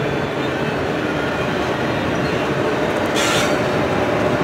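A CSX freight train rolls past in the Berkshires, a loud, steady roar of wheels and railcars close by with a brief squeal partway through, no voices.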